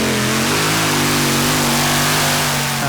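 A pulling tractor powered by a blown Chevy 572 engine roars at full power throughout, a loud, sustained engine note with steady harmonics and no let-up.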